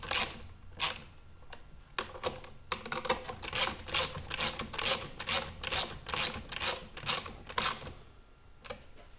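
Bolts on a RIP Series magnetic sweeper being tightened firmly with 2 7/16 wrenches: a quiet, steady run of rapid metallic clicks and ratcheting taps, evenly repeated throughout.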